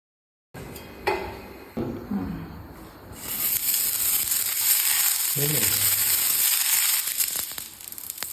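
Coconut dosa batter poured onto a hot oiled dosa stone: a few clinks and scrapes, then a loud, steady sizzling hiss that builds and holds close up, with brief speech early on.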